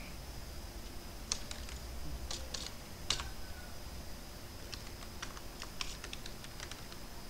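Fingers type a SQL server name on a computer keyboard, giving bursts of light, close key clicks separated by short pauses over a quiet room hum.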